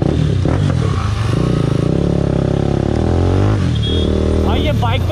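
A TVS Apache RR 310 BS4 motorcycle's engine revs and climbs in pitch as it is pushed to accelerate, loud and close throughout, with voices talking over the steady roar.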